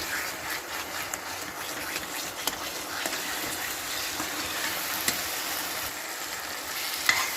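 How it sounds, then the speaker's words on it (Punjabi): Spice masala fries in oil for Punjabi-style eggplant bharta, giving a steady close sizzle with occasional stirring scrapes and small clicks of a spoon against the pan. "ਮਸਾਲਾ ਵਿੱਚ ਤੇਲ ਛੱਡ ਚੁੱਕਾ ਬਿਲਕੁਲ ਮਸਾਲਾ ਭੁੰਨ ਤੇ ਤਿਆਰ ਹੋ ਗਿਆ ਪੂਰਾ"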